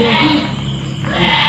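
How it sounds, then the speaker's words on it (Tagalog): A goat bleats loudly and close in an abandoned village in Cavite, Philippines, a wavering nasal cry that carries through most of the moment, with a second call toward the end. "Ito nga yung kambing."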